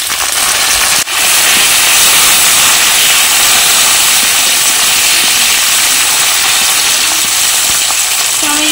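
Sliced tomatoes and four or five slit green chillies fry loudly in hot oil, a dense, continuous close sizzle and hiss that fills the whole stretch.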